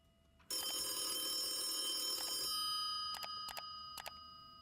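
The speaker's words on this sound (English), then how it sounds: "I guess I'm giving them a phone call." Inside the video game Vile Exhumed, a phone rings with a sustained electronic trill that stops abruptly, followed by several short, sharp ring bursts, fairly quiet overall.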